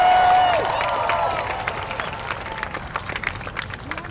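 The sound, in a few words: crowd applauding and cheering at rally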